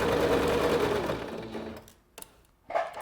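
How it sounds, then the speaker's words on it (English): Singer SewMate 5400 sewing machine running a back stitch, its motor whirring steadily for over a second before winding down, followed by a few faint clicks and a short burst of handling noise. "I'll sew forward a few, backwards a few, and then keep going all the way down to the bottom"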